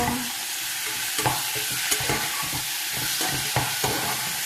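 Boiled mung beans being stirred and sautéed in a pan give a steady bright sizzle, with several scraping, knocking strokes of a spoon against the pan, close and without talk.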